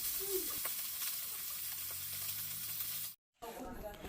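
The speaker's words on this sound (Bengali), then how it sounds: "তো এখন মাছগুলো ভেজে নিচ্ছি।" Small fish fry in hot oil in a pan, giving a steady close sizzle and crackle with a few faint stirring clicks, followed by a brief dropout and then the frying resumes.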